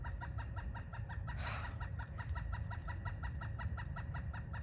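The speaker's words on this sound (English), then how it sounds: "I hate how much birds talk." Chickens cluck in a constant, busy chorus of repeated short calls, with a louder squawk partway through over a low background rumble.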